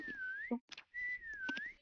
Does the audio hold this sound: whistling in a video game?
yes